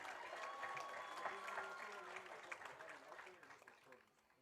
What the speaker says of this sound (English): Let's give another round of applause for your 2025 CFA 8-Man All-League